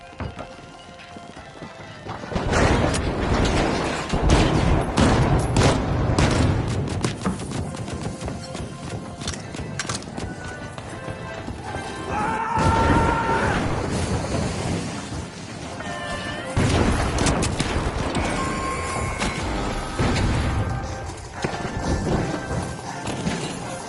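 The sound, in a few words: pyro grenade and mine explosions in The Finals video game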